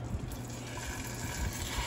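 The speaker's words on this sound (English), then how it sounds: "we're going to take our mushrooms and we're going to add those to the butter" Mushrooms hitting foaming butter in a pan, a steady close sizzle and hiss that runs unbroken for about two seconds with no talking.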